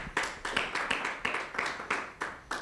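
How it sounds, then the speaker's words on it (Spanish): A few people clap in rhythmic unison during a church prayer service, a steady beat of about four claps per second, close and moderately loud. "Dale un fuerte aplauso a Dios."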